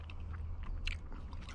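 Close, crisp crunching and chewing of an almond toffee 70% dark chocolate bar, with several sharp bites standing out over a low steady background hum.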